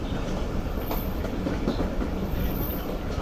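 A fast Karakoram Express passenger train runs around a curve near a lit bridge, with a continuous loud rumble, rhythmic clickety-clack of wheels on rail joints and faint high wheel squeal.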